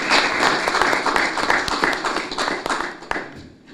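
A crowd gives rhythmic double clapping at a speech by Tinubu, with loud, dense overlapping claps, a few sharp standout claps, and the sound thinning and fading toward the end, with a faint background murmur.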